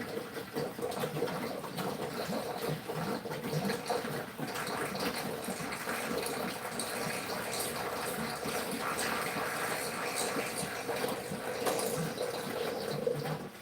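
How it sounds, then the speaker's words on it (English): Water drains down to the bottom tier of a two-tier 60-pod hydroponic strawberry garden, a steady, continuous trickling rush that carries on evenly throughout at moderate, close volume. "that's just the water going down to the bottom system"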